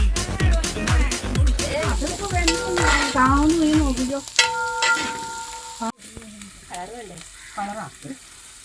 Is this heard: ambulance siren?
no